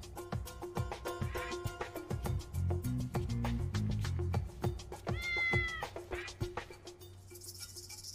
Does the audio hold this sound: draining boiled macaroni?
no